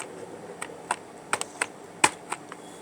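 A computer keyboard gives a handful of sharp, separate key clicks at an uneven pace, close and fairly quiet against a soft background hiss.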